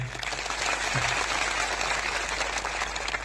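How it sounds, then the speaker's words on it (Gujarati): Applause from a large crowd of thousands at an outdoor political rally in Gujarat, a dense steady patter of clapping holding evenly throughout at moderate loudness, with no voices rising above it. "એકવાર જોરદાર આપણે તાળીઓ પણ લઈએ"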